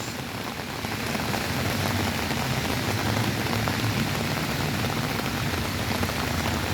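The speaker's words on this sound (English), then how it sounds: "Beautiful weather, rain in Chicago." Steady rain falls on city pavement and surfaces during a walk through Chicago, a dense, continuous hiss of drops, loud and close throughout, with no talking.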